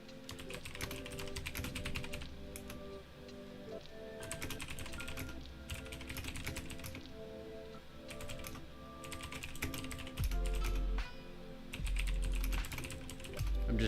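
Typing on a computer keyboard, close and fairly quiet, in irregular bursts of rapid key clicks separated by short pauses, with a faint low hum underneath and no talk.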